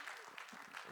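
A church congregation claps together at a midweek evening service, a steady dense wash of applause filling the room at even loudness from start to finish.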